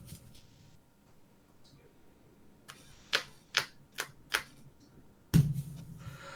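A Magic: The Gathering card deck is shuffled nearby, giving a run of four crisp riffling snaps followed by a heavier thump, with a low murmur of voices underneath.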